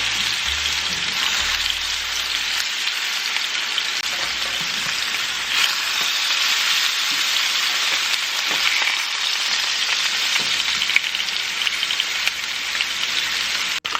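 Beef short ribs sear in a hot pan, a loud, steady, dense sizzle and crackle that runs unbroken and close, with faint clatter of turning near the start.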